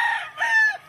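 A Duke Hulsey Gray gamefowl rooster crows once, close and clear, a short two-part call that rises and then falls away.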